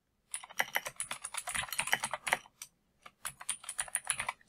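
Rapid typing on a computer keyboard, a close, steady run of crisp key clicks that pauses briefly and then resumes, with no talking.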